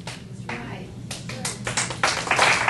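Audience at a political evening event breaks into applause, starting with scattered claps and swelling into fuller clapping toward the end, moderately close, with a speaker's voice underneath.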